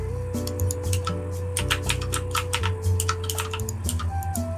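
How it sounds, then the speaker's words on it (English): Someone types steadily on a computer keyboard, making quick, close clicking keystrokes over a constant tonal background hum. "what are you typing away at?"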